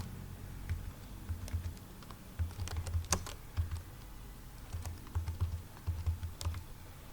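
Typing a search on a computer keyboard while installing a PHP extension in Visual Studio Code, heard as steady, close key clicks in short bursts with brief pauses between them.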